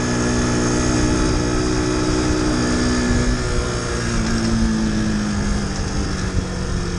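A Mash 50cc four-stroke motorcycle engine running close by, a loud, steady buzzing drone with a strong vibrating hum that barely changes pitch for the whole stretch.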